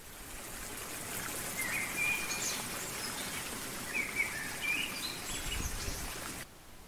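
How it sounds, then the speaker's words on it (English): Birds chirp and sing in short bright phrases over a steady outdoor hiss like running water, with no voices. "I listen, I hearken to the voice of the birds."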